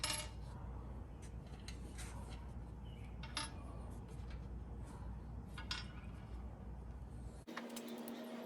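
Small metal screws from a headlight bezel on a Jeep XJ being scooped up by hand, a string of light, close jingling clinks over a steady broadband background roar that cuts off near the end.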